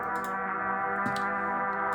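Layered guitar chord samples from a Chase Bliss Blooper pedal, widened with a shaper box, form a sustained, full, shimmering drone with faint ticking textures on top.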